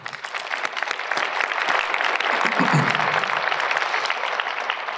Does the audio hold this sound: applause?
yes